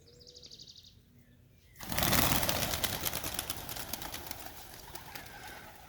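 Newly banded racing pigeons let outside for the first time coo and stir, a faint thin call giving way after two seconds to a loud burst of flapping wings and rustling that continues busily.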